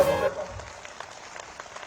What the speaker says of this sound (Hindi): एक बार तालियां बजाकर इनका जब स्वागत कर दीजिए